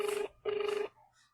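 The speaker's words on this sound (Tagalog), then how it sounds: "Sagutin mo ang telepono" Telephone ringing during a live rice giveaway radio-style call-in, two steady electronic rings with a short gap between them, loud and close with no talk over them.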